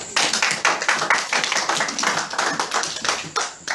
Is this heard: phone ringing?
no